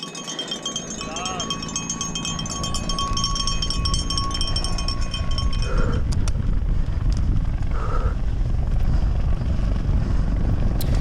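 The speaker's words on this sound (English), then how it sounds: "So you hear the helicopter there?" A helicopter passes over a cross-country mountain bike race course at Caspers Wilderness, a broad steady rotor drone rising in the background while people talk over it throughout.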